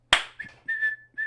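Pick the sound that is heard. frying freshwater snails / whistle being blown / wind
whistle being blown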